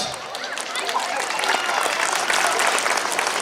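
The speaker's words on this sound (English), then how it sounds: "Give them a big round of applause here." A festival audience at a Festival of Lights event claps, with dense applause building and holding steady, while an amplified voice talks over part of it.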